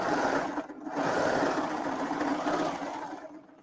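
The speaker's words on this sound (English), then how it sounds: "we're going to sew up each side." A sewing machine stitching up each side of a cuff: a steady, close mechanical whir with brief dips in pace, running continuously at moderate volume with no talk.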